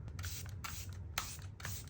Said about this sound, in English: take a glowy spray. This one's from Ole Henriksen, and it is the Peach Glaze Glow Mist